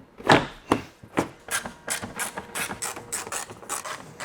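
Close, rapid clicking of a ratchet wrench fastening a new under tray belly pan beneath a BMW M5, in quick irregular bursts that settle into a steady run of clicks.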